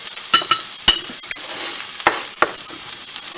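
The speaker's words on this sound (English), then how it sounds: "I'm going to throw the onions on both of them." Onions hit hot frying pans and sizzle, with a steady hiss broken by sharp clacks and scrapes of a utensil stirring in the pans, close and fairly loud.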